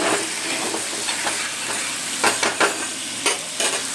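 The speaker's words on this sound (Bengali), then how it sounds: "জিরে কাঁচা লঙ্কা বাটা দিলাম, জিরে কাঁচা লঙ্কা বাটা।" Cumin and green chili paste frying and sizzling in a pan, a steady close hiss with a few brief louder bursts as it is stirred; no one talks.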